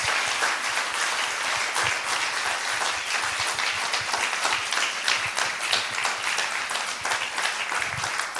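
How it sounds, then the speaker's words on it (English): Warm audience applause for two speakers on stage at an arts and healing summit, steady dense clapping that carries evenly at full strength throughout, with no talking over it. "So warm applause to our two wonderful speakers."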